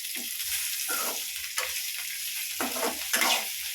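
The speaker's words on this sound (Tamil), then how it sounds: "இப்போ காஞ்சி மிளகா போடுறேன்ப்பா காஞ்ச மிளகா ஒரு அஞ்சு மிளகா போடுறேன்" Five dried red chillies fry in a pan with a quiet, continuous sizzle. Several scraping strokes of stirring come at irregular intervals. No one speaks.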